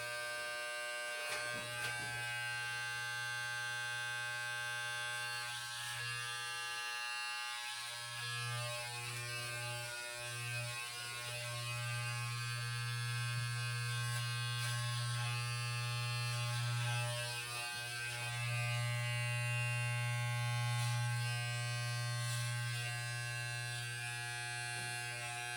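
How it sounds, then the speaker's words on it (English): Electric clippers buzz steadily for a home haircut, held close and loud with a constant drone, dipping briefly when lifted from the head and then running on without pause. "I'm going to shave it down"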